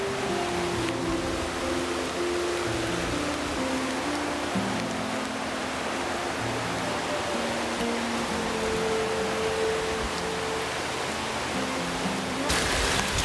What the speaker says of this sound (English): Creek right down there.